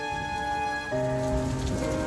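Steady rain pours down continuously, dense and close, with a sustained tonal hum running beneath the patter.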